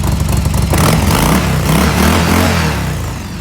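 A Harley-Davidson motorcycle engine revs up close and loud, a deep throaty rumble with pulsing throttle blips that hold steady, then ease off slightly at the end. No voices.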